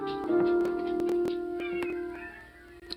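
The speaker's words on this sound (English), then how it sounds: "Oh my god, look at all these cats." Several cats meowing, with one drawn-out, steady meow held for a couple of seconds, plus shorter clicks and sounds around it, fairly close and clear.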